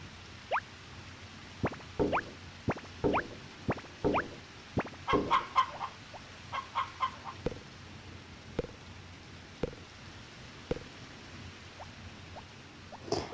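Hens cluck in a full hen house in the Harvest Moon video game, a string of short, clear clucks and calls spaced irregularly through the scene, with a brief cluster of brighter squawks near the middle and no talk.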